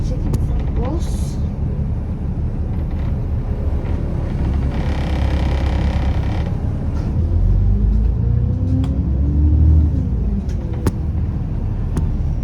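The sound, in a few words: bus engine rumbling in traffic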